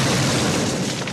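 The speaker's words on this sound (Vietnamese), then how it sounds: "Bắn pháo." A cannon booms in a comedy film, a dense, loud roaring blast that fills the whole moment and holds steady without a clear decay.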